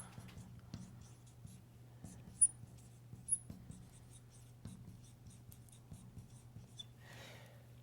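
Pen or marker scratching quietly on a surface while a chromosome diagram is sketched, faint short strokes and taps spread through the clip over a low steady hum.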